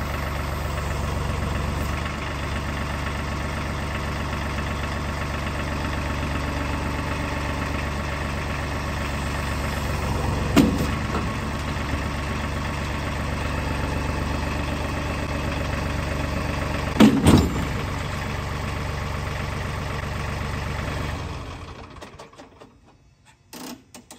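A Duramax diesel truck engine idles with a steady low rumble and mechanical clatter, ending in a brief fade. A couple of short clanks break in along the way, and no one speaks.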